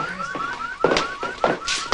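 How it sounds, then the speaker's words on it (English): An alarm goes off in an office, with a repeating warbling electronic tone that cycles several times and is cut by short bright bursts. It sounds fairly close and steady, and no voices are heard. "That's the alarm in Stanton's office."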